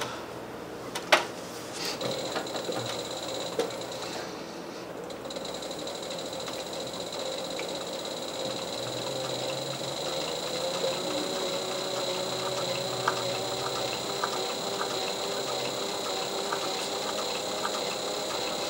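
A sewing machine stitches a seam on a leather purse, giving a steady, close mechanical whir and hum that runs for about nineteen seconds, with a few sharp clicks near the start and no talking.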